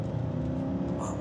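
BMW X6 engine running at a steady drone while driving, a continuous low rumble with mild road noise, close and fairly loud throughout.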